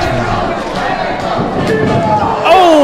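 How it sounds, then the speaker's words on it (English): Wrestling crowd at a hardcore match roaring and yelling loudly and continuously, a dense wall of cheering voices that swells higher near the end. "This crowd is going wild right now."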